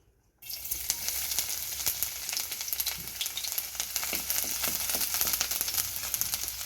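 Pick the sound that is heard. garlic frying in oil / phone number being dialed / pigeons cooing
garlic frying in oil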